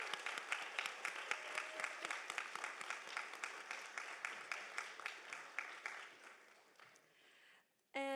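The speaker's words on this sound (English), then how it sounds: "Please give a round of applause to these other high-scoring staff, faculty, alumni, and student Sustainability Champion Award nominees." Applause for sustainability award nominees at a summit opening session: a dense round of clapping from an audience, steady and fairly close, tapering off toward the end before a brief burst of another sound.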